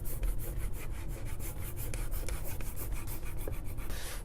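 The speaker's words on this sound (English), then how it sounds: "I'm going to use this little cork side here to give this a clean first" A cork block rubs back and forth over a ski base to clear off white waxless glide residue, a steady close scrubbing rasp in quick repeated strokes with no pauses.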